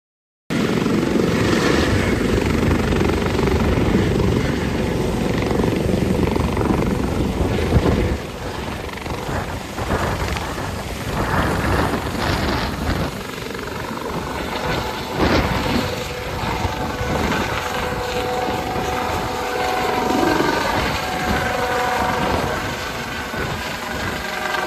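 Steady loud helicopter rotor and engine drone heard from inside the cabin during a ride over the Kumbh Mela gathering, continuous throughout with shifting tone and no talk.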